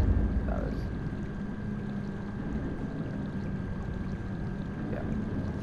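A submersible cruising underwater in GTA V gives a steady, muffled low rumble with a faint constant hum, continuous and even throughout.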